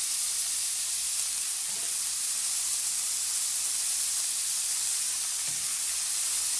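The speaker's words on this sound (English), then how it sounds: "we hear that sizzle" Onions sizzle in a hot pan for a tofu tikka masala, giving a loud, steady, hissing fry with a faint crackle that holds without a break and with no voices over it.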